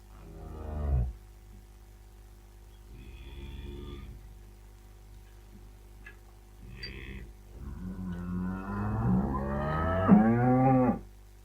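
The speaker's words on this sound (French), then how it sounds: "La vache." A cow moos several times, loud and close, with a long drawn-out low call at the start and a rising, strained bellow near the end, separated by quieter grunts.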